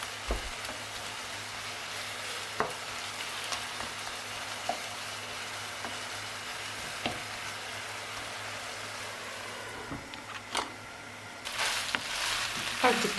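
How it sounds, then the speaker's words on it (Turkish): Homemade döner meat frying over high heat in a pan and stirred now and then, a steady broad sizzle with scattered scraping clicks, growing busier and louder near the end. "Onunla da böyle birazcık alttan kızarmaya başladıkça karıştırdım."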